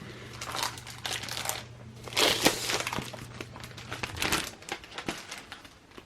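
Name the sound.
crinkling plastic packaging of cardstock paper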